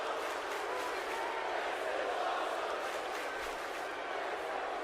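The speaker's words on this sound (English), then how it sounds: "The crowd chanting, "This is awesome."" A dense arena crowd in the wrestling game WWE 2K17 chants and roars in a continuous, loud wash of voices that holds steady throughout.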